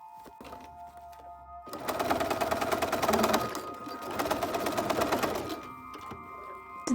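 Sewing machine stitching an elastic casing closed on a pair of pants, two close bursts of rapid, steady stitching with a brief pause between, framed by quieter handling sounds and a faint hum.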